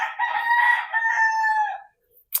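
A high-action McLean gamefowl rooster, about two months old, gives one loud, close crow lasting under two seconds, followed by a short pause and a brief sharp noise at the end.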